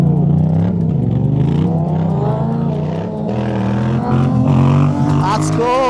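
A Yamaha MT-07 700 motorcycle accelerates hard during a small race, its engine note rising and falling through gear changes, loud and close for the whole stretch.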